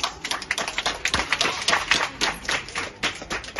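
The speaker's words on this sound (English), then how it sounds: "Let's clap the hands." Audience clapping hands at a school plaque unveiling for Battlefield Primary School in Nzinyati District: steady, dense, close applause from a small crowd, many sharp claps overlapping continuously throughout without voices.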